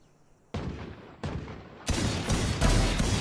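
Gunshots ring out in Valorant: two sharp separate shots followed by a rapid burst of continuous fire, loud and close.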